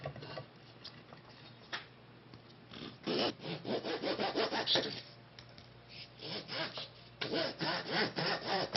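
A handsaw cuts through a wooden Native American flute blank in rhythmic back-and-forth rasping strokes, close and fairly quiet, with short pauses between bursts.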